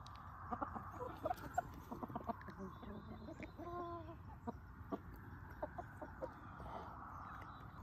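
Chickens cluck and murmur in a coop, with short rooster-like calls scattered over a constant low background rustle.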